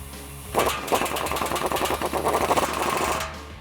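Power tool tightening a Borla exhaust clamp with a 15mm socket under a 2014-2018 Silverado 5.3L, giving a close, rapid rattling burst of about three seconds on its own.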